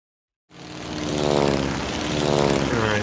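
Propeller planes in the mobile game Airport City make a steady engine drone that starts abruptly after a brief silence and holds loud and even, with no talk over it.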